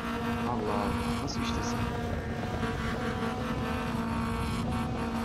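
A car engine at full throttle in Assetto Corsa while weaving through motorway traffic drones as a steady, high, constant whine. A voice talks over it.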